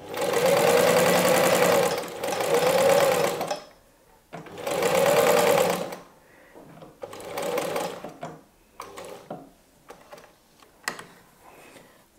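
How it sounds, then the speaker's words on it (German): Sewing machine stitching a complete seam line on a beginner Halloween pumpkin basket project, running in several loud sustained bursts with short pauses between, then lighter intermittent stitching and ticks toward the end. "wir nähen einmal die komplette Linie ab"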